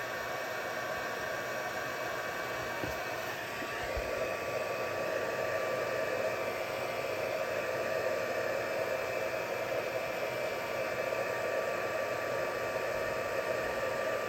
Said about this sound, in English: now I'm just going to heat emboss these with my heat gun again